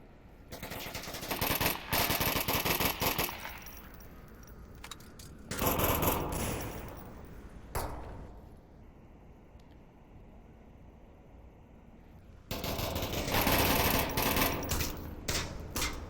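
Gunfire in the VR shooter game Onward during a competitive match, with loud sustained bursts of automatic fire broken by quieter gaps and single shots, close and dense, with no talk.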